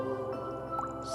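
Water drips in a temperate rainforest, a few soft wet plinks and squishy drops over a low steady background, close and faint, no voices.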